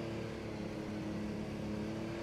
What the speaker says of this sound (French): Là, j'accélère et la voiture, elle part en vrille